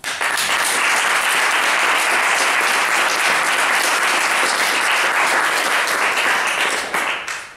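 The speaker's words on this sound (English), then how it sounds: "I'd like to ask everyone to give a round of applause to all of the Time to Change staff" A large audience at a Time to Change story camp event gives sustained, loud applause for the staff, a thick, even wash of clapping that fades slightly at the close.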